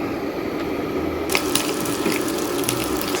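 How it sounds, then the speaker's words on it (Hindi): Thin chicken strips frying in a hot pan, a close, dense bed of sizzle that breaks into sharper crackling and popping after a second, with no voices. "तो ये देखें फटफट हो रहा है खूब ज़ोर ज़ोर से"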